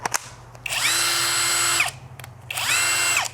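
A cheap electric impact wrench bought from Temu runs in two loud bursts, each about a second long. It whines steadily at a high pitch, with short pauses between the runs and no talking.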